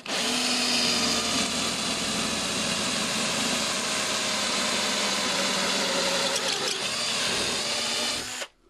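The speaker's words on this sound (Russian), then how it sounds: "Меня устраивает, как идет сверление. 3-миллиметровый металл просверлен за несколько секунд." A power drill bores through 3 mm metal sheet, a steady loud whirring grind that runs unbroken for about eight seconds before cutting off abruptly.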